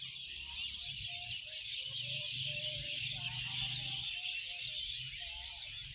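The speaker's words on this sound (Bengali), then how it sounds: "চারপাশে পাখির কলকাকলি কিচির মিছির" Birds chirp in a village countryside on an afternoon, a dense, steady chorus of high calls at low volume with no voices.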